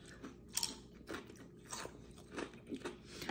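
Crunchy cheese-flavoured chips from an Aldi bag being bitten and chewed close up, with several crisp crunching bursts spaced irregularly and no talking.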